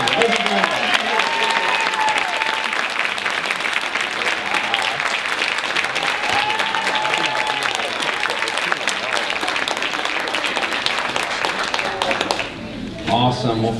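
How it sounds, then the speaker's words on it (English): An audience at the 2019 Quitman Dogwood Pageant claps and cheers in a dense, continuous wash of applause that lasts over twelve seconds, with a voice briefly heard through it before it thins out near the end. "Let's cheer you on."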